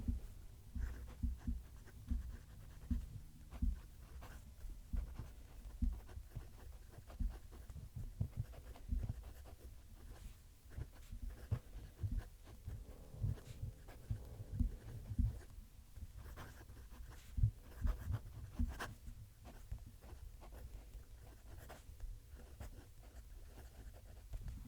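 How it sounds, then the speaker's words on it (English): Close scratchy fountain pen strokes on grainy, textured paper, a steady rhythm of quiet scrapes and taps continuing throughout. "there's a lot of noise coming when I'm writing"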